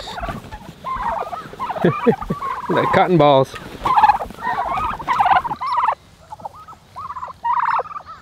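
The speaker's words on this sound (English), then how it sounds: "Come on, turkeys." Turkeys gobble repeatedly nearby in rapid, rattling bursts, overlapping at first and then thinning to short separate calls, with a few spoken words.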